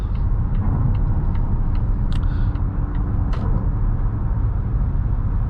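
Highway cabin noise inside a 2023 Volvo S90 B6, a steady low road-and-engine rumble that stays even throughout, with faint ticks and brief clicks over it and no one talking.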